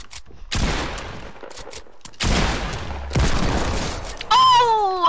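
Hand cannon gunfire from a 129L in an online shooter video game, heard as a few loud broadband blasts in separate bursts, followed by a rising whistling in-game effect.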